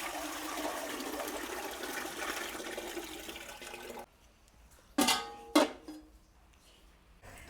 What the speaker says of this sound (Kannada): ಈಗ ಕಡುಬಿನ ಪಾತ್ರೆಗೆ ನೀರು ಹಾಕಿ ಬಿಸಿ ಮಾಡ್ಕೊತಾ ಇದ್ದೀನಿ